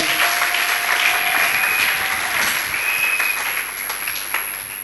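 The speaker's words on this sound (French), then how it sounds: "Acclamez le Seigneur. betela yawe maboko" A church congregation breaks into sustained applause, a dense, loud wash of clapping that stays steady for several seconds before easing slightly, with a faint voice briefly audible beneath it.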